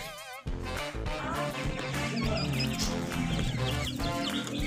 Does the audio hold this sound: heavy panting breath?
no